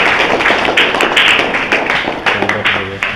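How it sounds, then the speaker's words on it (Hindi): Schoolchildren in a classroom of a government school clap together, a dense burst of close hand claps that fades off toward the end. "चलिए ताली बजाइए"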